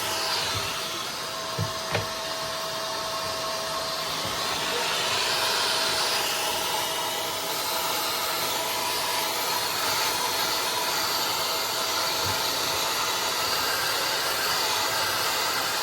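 A vacuum cleaner runs steadily with a loud, broad hissing whine while cleaning debris from a Tesla's radiator, with a few faint knocks of debris being sucked in near the start.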